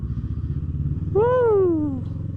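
A Kawasaki Versys 650 motorcycle is ridden in Korat, its engine giving a steady low rumble throughout, with a brief rising-then-falling tonal whine passing over it midway.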